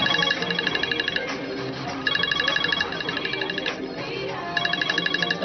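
A telephone ringtone trills in repeated bursts, three rapid electronic ringing phrases separated by short gaps, loud and close over a busy background.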